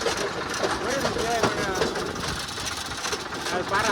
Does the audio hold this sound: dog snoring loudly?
no